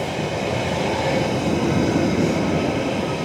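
A Merseyrail electric train rumbles loudly and steadily at Wallasey Grove Road station, where trains cross over, giving a close, continuous roar with no voices.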